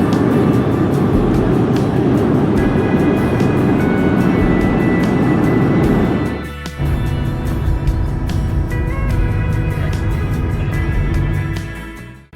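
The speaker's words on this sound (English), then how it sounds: "as soon as the wheels touched down, the air brakes extended upwards to help slow the airplane to a stop" Loud, steady roar of a jet airliner landing on the runway, air brakes extended, a brief dip midway, then a continued rushing rumble that gradually eases off as it slows at the end.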